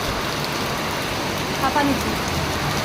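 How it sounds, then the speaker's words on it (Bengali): Heavy monsoon-style downpour of rain, a dense, steady hiss of water that fills the whole stretch without letting up, with a few faint sounds surfacing near the end. "ভীষণ মুষলধারে বৃষ্টি পড়ছে"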